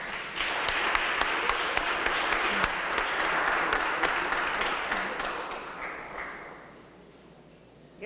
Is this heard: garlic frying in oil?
no